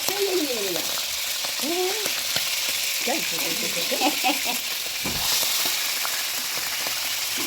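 Cow liver frying in hot cooking oil, a steady loud sizzle and crackle running throughout, with a brief spoken word and some animated vocal sounds over it early on.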